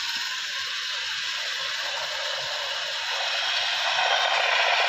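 A milking machine works on a first-calf heifer's small teats, giving a steady, fairly loud mechanical hiss with a soft rhythmic pulsing beneath it and no voices.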